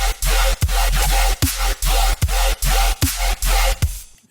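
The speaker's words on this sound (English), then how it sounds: "I want that high-pitched screech." Screeching, high-pitched metallic dubstep bass patch from the Serum synth, played in loud chopped bursts separated by short gaps in a steady rhythm, alone and upfront.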